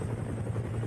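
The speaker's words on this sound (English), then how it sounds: "we've got a helicopter going to pick up" A helicopter flying out to pick up a bulldozer gives a steady, loud, low rotor drone that fills the whole moment, with no talking.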